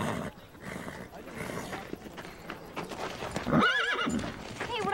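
A spooked horse neighs and whinnies loudly amid hoof clip-clop, with voices and general commotion underneath.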